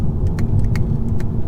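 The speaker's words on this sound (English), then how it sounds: "wow, look at how I'm dropping the gears" An Audi A3 3.2 V6 in sport mode drops through its DSG gears, giving off a deep, throbbing engine rumble heard close up, with a few faint clicks over the top.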